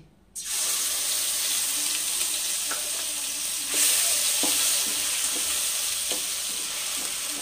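Ginger, onion and garlic paste hits hot oil with bay leaf, bursting into a loud sizzle that holds steady, swelling midway, with a few faint utensil clinks and no speech.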